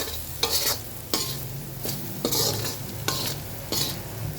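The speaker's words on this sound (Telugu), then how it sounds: "ఇప్పుడు బాగా కలపండి." Salt and seasoning being stirred into hot oil in a pan while preparing poha: repeated spoon scrapes and stirring strokes in a steady rhythm over a constant soft sizzle, close and clear with no talk.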